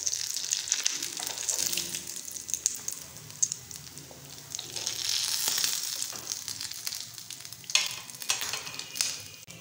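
Potato and egg roll kebabs sizzle and crackle steadily in hot frying oil, with occasional stirring knocks and bubbling bursts, close and continuous throughout.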